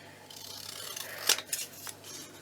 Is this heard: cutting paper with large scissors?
yes